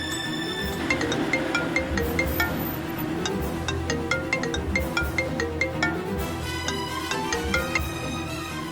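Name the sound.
phone ringing during outgoing call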